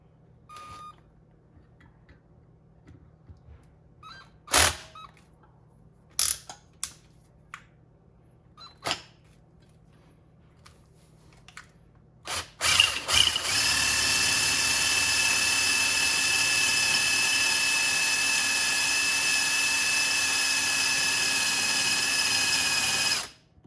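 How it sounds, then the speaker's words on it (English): A power drill with a 1/4 inch bit drills into material for a DIY sand spike, starting after scattered clicks and handling knocks, then whirring steadily and loudly for about ten seconds before stopping. "Use the same drill, 1/4 inch, mark it."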